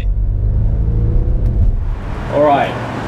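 A Lamborghini Aventador S engine rumbles low and steady on a test drive, rising in pitch as it accelerates near the end; the tone is deep and loud, close to the car.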